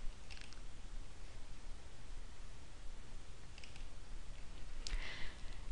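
A few faint, sharp computer mouse clicks stand apart from one another over a low steady hiss, with no voices.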